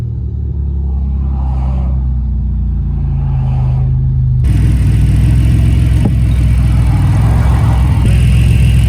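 A repaired 1986 Pontiac Fiero engine idling close by, a steady low rumble that grows louder and rougher about halfway through, with no speech over it.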